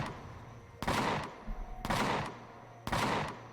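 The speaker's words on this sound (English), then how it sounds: "Look at those flak turrets go. Bang, bang, bang, bang." Three loud, evenly spaced bursts of flak turret fire in the sci-fi survival game Empyrion Galactic Survival, each a sharp blast with a short rumbling tail, heard alone without talk.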